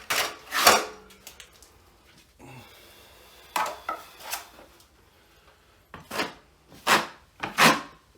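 Small Columbia skim coating blade scraping across a ceiling being repaired, a series of sharp, close rasping strokes in uneven bursts separated by short pauses.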